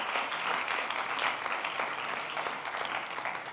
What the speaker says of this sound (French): Ils vous applaudissent, vous pouvez les applaudir.